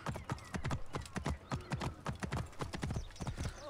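A horse in Assassin's Creed Origins trots with rapid, regular clip-clop hoofbeats, close and steady throughout, over quiet background ambience.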